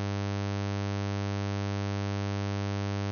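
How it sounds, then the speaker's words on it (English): Synthesized 100 Hz sawtooth wave tone holds steady and buzzy for about three seconds, a dense, bright drone with no change in pitch or loudness. "Thick and rich. Sounds like sawtooth."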